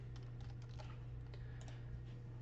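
Steady typing on a computer keyboard while entering a field name in CRM software, with a run of quick, close, light key clicks over a constant low hum and no voices.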